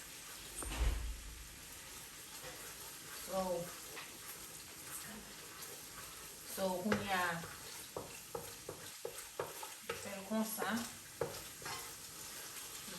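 Chicken sizzles and fries in a pan of sauce beneath intermittent talking, with occasional stirring clatter and scraping.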